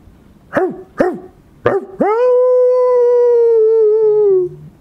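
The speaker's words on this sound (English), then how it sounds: "You didn't hear that crazy yapping and howling?" A coyote near a farm gives three sharp, loud yaps, then breaks into one long, sustained howl that holds steady and fades out, close and clear with no talk over it.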